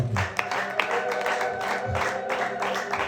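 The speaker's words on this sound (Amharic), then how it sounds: "ለጌታ ክብር እልልታ ጭብጨባ።" A church congregation claps and ululates in praise of the Lord, producing a loose burst of overlapping handclaps with trilling voices in a reverberant hall.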